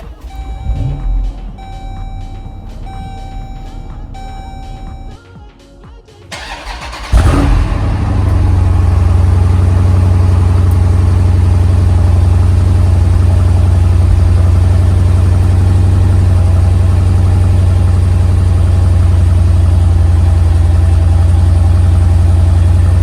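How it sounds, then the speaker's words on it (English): A Jeep Grand Cherokee SRT cold-starts first thing in the morning: a few seconds of mechanical clicking and chiming, a loud crank and catch, then a steady deep rumbling idle that continues loud and close to the end. "let's give it a little cold start this first thing in the morning"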